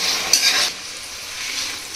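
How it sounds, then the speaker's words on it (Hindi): Fox nuts (makhana) frying in a pan give a close, soft sizzle and rustle, louder at first and then settling into a quieter hiss. "हमारा मखाना फ्राई हो रहा है"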